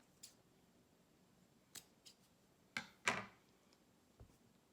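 Scissors snip two rubber bands in half for homemade mask straps: a few sharp, close cuts with light handling clicks between them in a quiet room, with no talking.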